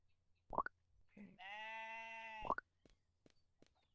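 A single sustained sheep bleat, clear and fairly close, from a farm in a video game, framed by a few soft clicks and thumps before and after in an otherwise quiet scene.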